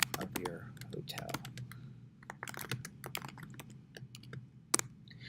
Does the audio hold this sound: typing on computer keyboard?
yes